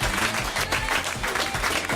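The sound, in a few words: applause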